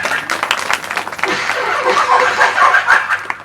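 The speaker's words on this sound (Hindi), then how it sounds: "बजाइए ताली जोरदार" An audience at a Shrimad Bhagavat Mahapuran katha, a religious discourse in Patrapara village, Surajpur, claps steadily for several seconds in a dense, sustained burst, with light laughter mixed in.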